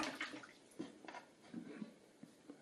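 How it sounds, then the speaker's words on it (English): A watercolour paintbrush is swished and rinsed in a pot of water, giving faint, soft sloshing and small drips that come in brief bursts close by. "wash your brush out,"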